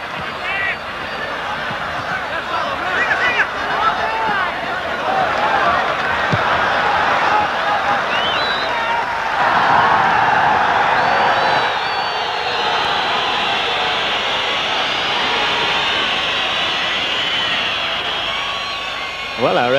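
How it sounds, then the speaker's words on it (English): A capacity stadium crowd roars steadily at a 1989 World Cup qualifier between Israel and Colombia in Tel Aviv, a dense, continuous wall of cheering and hubbub that swells briefly midway, with a commentator talking over it. "Capacity crowd here. And as you can hear all around us,"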